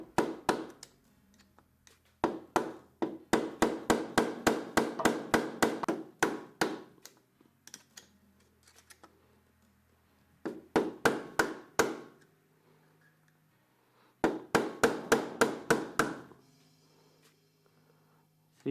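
A screwdriver taps at the clutch nut of a 110cc–125cc quad bike in three quick bursts of sharp metallic knocks, each a rapid series of about eight to ten hits, with pauses between and no talking.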